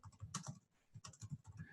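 A computer keyboard clatters with quick, close keystrokes in two short bursts separated by a brief pause, light and crisp with no talking over it.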